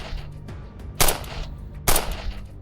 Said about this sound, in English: Then suddenly, gunshots broke the quiet night.